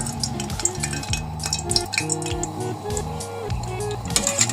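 Zalabia dough frying in hot oil, a continuous bubbling sizzle with occasional clinks of a utensil against the pan, under a low steady hum.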